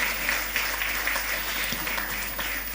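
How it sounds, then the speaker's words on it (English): Warm, continuous applause from the audience at a national investiture ceremony honouring St. Lucian recipients, a full, even clatter of many hands sustained throughout with no talking. "Can we have a rapturous round of applause for all our recipients today"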